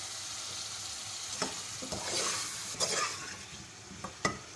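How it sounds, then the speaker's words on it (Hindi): Cauliflower goes into frying masala for aloo gobhi sabzi and gets stirred, a constant sizzle overlaid with scraping and a few sharp knocks of a spoon on the pan, close and unaccompanied by speech. "अब इसमें हम गोभी ऐड करेंगे।"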